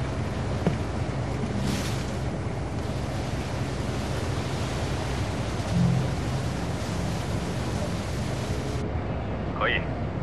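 A ship moves across the water with a steady, broad wash of engine rumble, waves and wind, a couple of brief knocks breaking through the constant noise.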